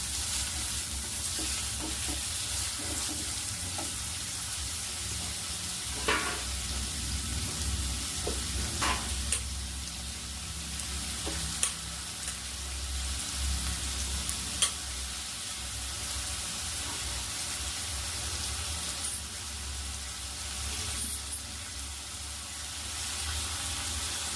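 Finely chopped onions sizzle steadily in a pan for bitter gourd gojju, a continuous broadband fry with occasional stirring scrapes and clicks, no voices.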